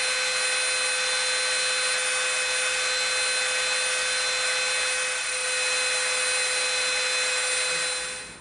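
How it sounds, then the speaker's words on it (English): A Dremel rotary tool rounds off the edge of EVA foam, giving a steady, close, high-pitched whine that holds evenly from start to finish. "we're going to come in with our Dremel and we're going to just slightly round the edge off"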